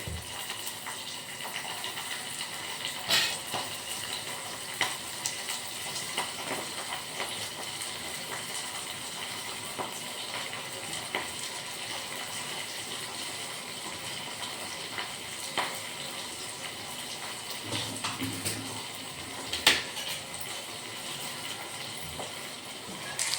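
Chilies and then tomatoes frying in a pan for a brinjal (eggplant) curry, giving a steady low sizzle with occasional louder pops and stirring clatters, no talking.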